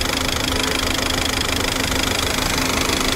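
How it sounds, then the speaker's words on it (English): The EW12 engine of a Peugeot 407 Coupe runs steadily at close range, a constant dense mechanical hum with a faint ticking texture and no voices. "So I guess you guys can hear the sound of engine. Of course, this is the EW12 obvious sound."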